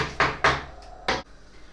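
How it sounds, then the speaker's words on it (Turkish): An indoor door swung and pushed shut in a home kitchen, a few quick rattling thuds in succession ending in a firm closing clunk, close and fairly loud. "Kapı örter misin kapıyı?"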